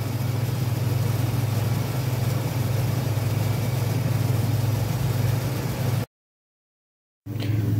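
A 2005 Ford Ranger idles steadily while warming up, a constant low engine hum heard close with no talk, cutting off abruptly near the end before briefly resuming.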